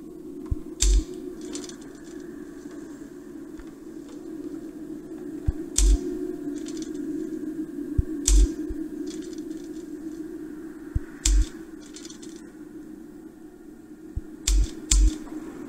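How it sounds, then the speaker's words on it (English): Typewriter keys in the puzzle video game The Room Two strike in short, isolated clacks spaced a few seconds apart, with a few quick double taps, sounding close and crisp over a low steady hum. "let's just go right to the typewriter and type that"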